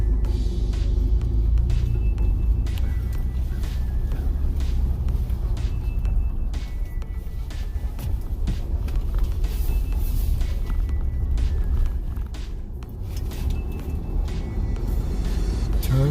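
A Ford Bronco rolls and turns at low speed, a continuous close low rumble of engine and road noise with occasional faint clicks.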